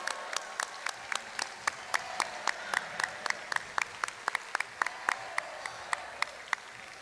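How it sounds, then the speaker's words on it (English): Scattered individual hand claps ring out in a large hall at a robotics championship, sparse and irregular rather than a full ovation, fairly distant, with no talking. "Round of applause for all of our mentors."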